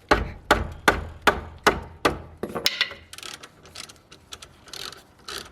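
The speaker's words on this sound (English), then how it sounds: "Excuse me, ratchet abuse." A ratchet works a socket on a brake nut of a Mitsubishi Delica, giving a run of sharp, evenly spaced clicks up close, then sparser, lighter clicks and rattles.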